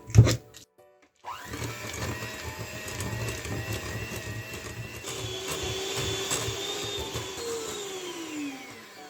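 An electric hand mixer works cookie dough made with pudding powder, sugar and oil, starting after a brief knock and then whirring continuously and loudly, its motor pitch shifting partway through.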